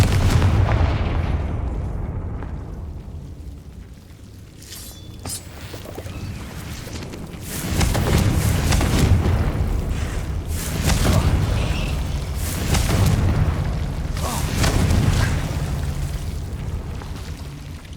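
Confringo spell blasts in the video game Hogwarts Legacy boom out as a string of heavy, rumbling explosions, loud and layered, with several bursts arriving in close succession.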